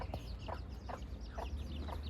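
Chickens clucking nearby on a farm during house renovation work, a series of short repeated clucks about every half second over a low background rumble, no speech.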